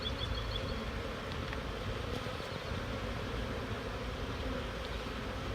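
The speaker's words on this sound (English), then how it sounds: "But bees, we have a symbolic relationship and stewardship" A steady, dense buzzing of many honey bees fills the air continuously, close and full, with no pauses.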